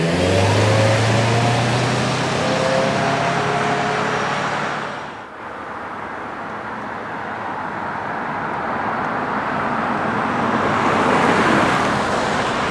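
A 2025 Mazda CX-50 Hybrid driving on the road, a broad steady whoosh of tire and road noise with an engine note rising early on, a brief dip midway, then cruising on.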